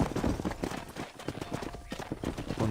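Horse hooves clip-clop in a quick, steady rhythm while a rider drives cattle in Red Dead Redemption, close and moderately loud with a brief whinny.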